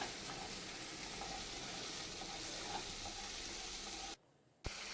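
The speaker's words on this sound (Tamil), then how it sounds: "இந்த மாதிரி நல்லா ஃப்ரை பண்ணி எடுத்துக்கோங்க" Mutton curry masala with tomato fries in a pot, giving a steady, dense sizzle that holds evenly for about four seconds before cutting out abruptly into near silence, then returning briefly at the end.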